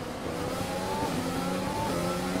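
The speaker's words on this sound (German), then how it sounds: "Der Motor zickt gerade ein bisschen." Race car engine in the F1 2020 video game, running unevenly during the Singapore Grand Prix, a steady close droning whine with slight wavering pitch that continues without a break.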